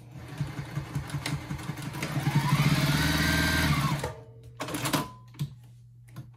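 Sewing machine stitching a fabric bowl cozy, with a steady whirring stitch run that speeds up and then stops, followed by a few shorter backstitch bursts and clicks, heard up close without talking.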